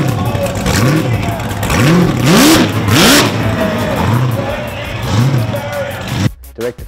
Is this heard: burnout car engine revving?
yes